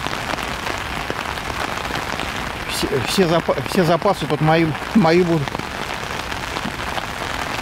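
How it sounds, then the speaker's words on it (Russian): Heavy rain falls steadily, a dense hiss of drops on surfaces filling the whole stretch, while someone speaks over it in the middle. "Не, сильный дождь идет."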